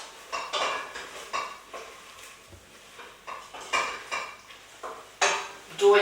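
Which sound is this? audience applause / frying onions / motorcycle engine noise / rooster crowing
frying onions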